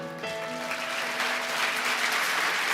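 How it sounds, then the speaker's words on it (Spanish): A church congregation bursts into applause for the Lord after a sermon, a thick, sustained wall of clapping that swells and holds, with a lingering sung or sustained tone fading beneath it at the start. "Un aplauso más fuerte al Señor"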